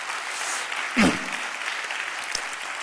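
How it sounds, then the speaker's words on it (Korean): Applause from a church congregation at an evening conference, welcoming a visiting pastor couple from Venezuela; steady, diffuse clapping throughout with one brief louder burst near the middle. "우리 큰 박수로 한번 환영합니다"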